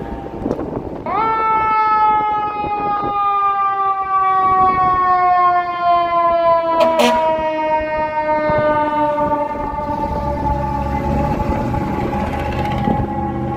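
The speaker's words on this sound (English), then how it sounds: "Let's see the fire engine coming through here." A fire engine moves along a Chicago street, and its loud, sustained horn-like siren wail blares close by for many seconds, pitch slowly dropping as it passes, over street traffic rumble.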